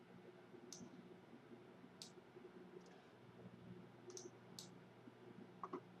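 Soft mouse clicks on a computer in a quiet room, a handful of short, faint, isolated taps spread unevenly over a few seconds with a low steady hum behind them while navigating a WordPress site.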